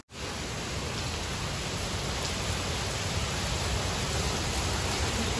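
Steady rain hisses evenly throughout, a dense constant wash of patter with no voices or breaks.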